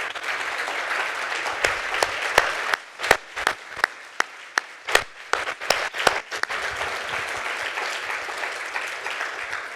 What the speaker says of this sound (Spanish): queremos darte un fuerte aplauso